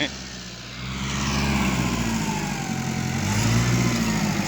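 A Kubota tractor engine running steadily nearby, a low rumbling chug that swells slightly in loudness, with a voice talking over it.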